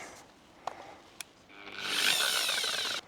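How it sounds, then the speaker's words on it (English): A 7-inch variable speed sander polisher with 60 grit starts up and sands old wall boards in a century-old Queensland house, a loud rising whir and abrasive scrape after a couple of clicks. "Now this little 7-inch Azito sander polisher has variable speed, which is quite nice."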